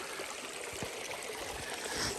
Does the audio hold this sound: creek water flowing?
yes